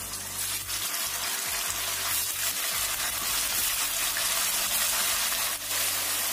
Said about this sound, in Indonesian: ini kita goreng tahunya sampai matang